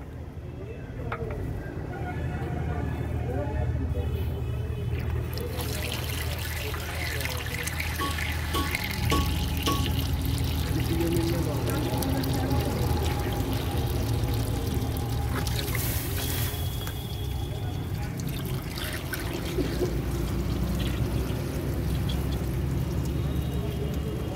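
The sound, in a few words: tap water pouring to rinse old coolant from car radiator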